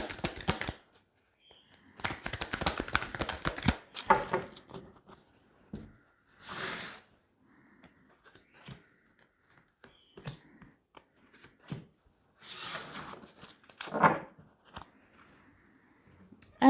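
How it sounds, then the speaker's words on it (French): Three tarot cards are drawn from a deck, with bursts of quick shuffling riffles and crisp card snaps near the start, followed by scattered softer slides and flicks separated by quiet gaps. "Allez, on va tirer 3 cartes."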